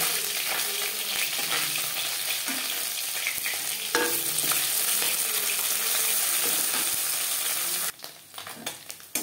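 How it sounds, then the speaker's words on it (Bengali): Small pieces of bele fish sizzle and spit in hot oil in a wok for a Bengali tomato curry, a steady close frying hiss with occasional stirring scrapes that drops away near the end. "অল্প অল্প করে ভেজে নেব"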